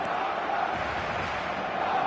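Stadium crowd noise from an eFootball match fills the whole stretch as a dense, steady roar of many voices, loud and continuous, with faint chant-like tones on top.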